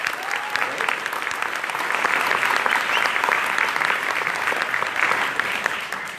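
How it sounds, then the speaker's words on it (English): A conference audience at an animal rights national conference closing plenary gives speakers a round of applause, with dense, steady clapping from many hands that holds at an even loud level throughout. "So let's firstly give them all a round of applause."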